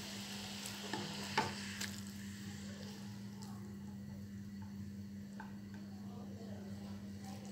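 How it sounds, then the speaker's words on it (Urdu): Minced meat tipped into boiling water in a karahi, a few sharp clatters near the start and then a soft continuous bubbling simmer, no voices. "پانی کو بوائل آ گیا، سب سے پہلے قیمہ شامل کر لیتے ہیں"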